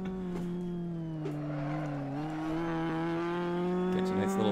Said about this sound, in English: Catch a nice little slide there.